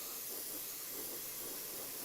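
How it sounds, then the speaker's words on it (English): A can of matte varnish sprays onto a painting in one steady, close hiss that lasts the whole moment without a break. "That's literally just one spray."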